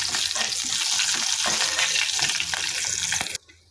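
Cucumber pieces fry in a pan for a cucumber chutney, making a loud, continuous sizzle with stirring scrapes close by that stops abruptly near the end.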